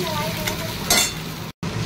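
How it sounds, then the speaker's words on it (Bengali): Potatoes, onions and chillies frying in a pan for home-style chowmein, a loud close sizzle with scraping stirs and a sharper burst of hiss, cut by a brief dropout near the end. "আলু পেঁয়াজ লঙ্কা ভাজা হয়ে গেছে"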